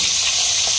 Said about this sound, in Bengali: সীমা এদিকে দুপুরবেলা রান্না বসাই দিছে